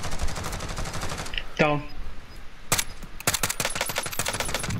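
Gunfire in Call of Duty: Modern Warfare during a final-circle match: loud rapid bursts of automatic shots open the clip, a short pause follows, then more dense volleys crackle to the end, with a brief spoken word mid-clip.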